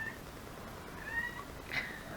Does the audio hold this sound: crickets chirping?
no